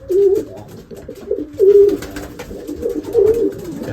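Racing pigeons in a loft coo in repeated low throaty phrases, several soft rounded calls close by with short pauses between them and no talking over them.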